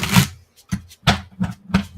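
A deck of cards being shuffled, five or six quick, close, papery riffling bursts in an irregular rhythm, with brief pauses between them and no talk.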